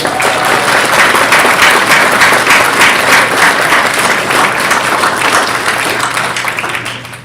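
Dense, loud applause from a large audience at a Salt Lake City police academy graduation ceremony, steady and sustained for several seconds before gradually tapering off at the end.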